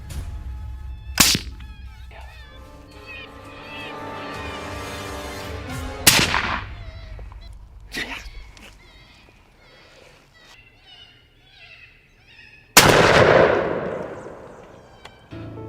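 Gunshots during a bobcat hunt: loud sharp cracks near the start, around the middle and at the end, each followed by a short rumbling tail, with quieter rustling and outdoor ambience between them.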